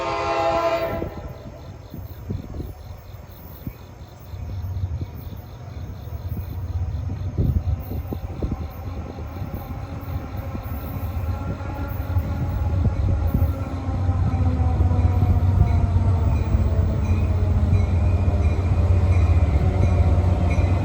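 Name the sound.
NJ Transit train 1125 Hoboken-Suffern approaching Ramsey station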